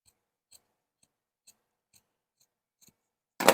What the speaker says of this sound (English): I'm just going to trim that seam out so that it is even